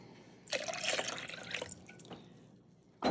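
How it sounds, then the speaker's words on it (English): Milk poured from a large measuring cup into a frozen drink maker, a steady liquid stream running for a couple of seconds before tapering off, with a brief splash near the end. "large measuring cup because it makes it so much easier to pour it in"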